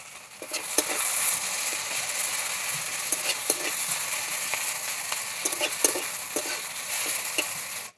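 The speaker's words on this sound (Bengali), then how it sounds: "তেল গরম হয়ে গেছে, দিয়ে দেবো কুচনো পেঁয়াজ, দিয়ে দেবো চেনা করা কাঁচা পাকা লঙ্কা," Chopped onion and green and red chillies fry in hot oil with a loud, steady sizzle, broken by scraping and clicking as a spatula stirs the pan, with no talking.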